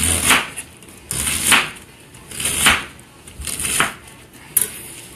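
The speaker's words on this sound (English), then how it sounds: "I'm just going to go down and slice it into nice little." A knife slices through cabbage on a cutting board in slow, even strokes, each one a close crunchy swish ending in a light tap, about five cuts with no talking.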